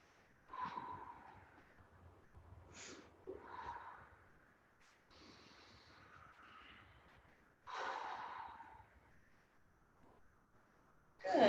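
Several deep, slow breaths with audible inhales and sighing exhales from people holding a post-workout stretch in a group class, soft and close, spaced a few seconds apart, with faint room noise between them.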